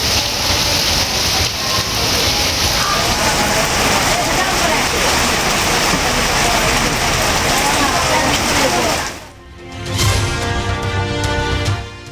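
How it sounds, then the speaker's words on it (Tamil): Widespread rain with wind falling around Srivilliputhur in Virudhunagar district, a dense steady broadband hiss lasting most of the span before cutting off abruptly near the end. "விருதுநகர் மாவட்டம் ஸ்ரீவில்லிபுத்தூர் சுற்றுவட்டார பகுதிகளில் பரவலாக மழை."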